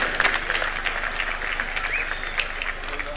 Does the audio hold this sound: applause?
yes